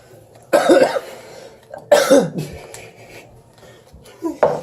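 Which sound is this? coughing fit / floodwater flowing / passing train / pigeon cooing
coughing fit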